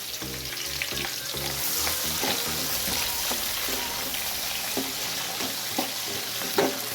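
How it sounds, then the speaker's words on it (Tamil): Onions for chicken biryani fry loudly in hot oil with a dense, steady sizzle, while a utensil stirs and scrapes the pan in several quick knocks near the start; no voices. "வதக்கிக்கணும்."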